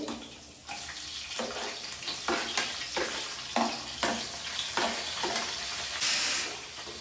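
Onion frying in hot oil with mustard seeds, red chillies, curry leaves and garlic, a loud close sizzle broken by repeated stirring scrapes every half second or so, no talk.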